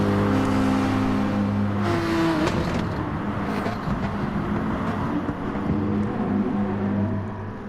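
Nissan GT3 race cars lapping Brands Hatch in a racing game: steady droning engine tones that shift pitch with gear changes, with cars passing and fading, heard alone at moderate loudness.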